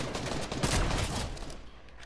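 Sniper rifle fire in Fortnite, a fast run of loud, broadband shots packed tightly over two seconds with little pause between them.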